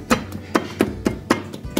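Pakora batter being beaten by hand in a bowl, about seven sharp, evenly spaced taps or slaps in quick rhythm, close and fairly loud.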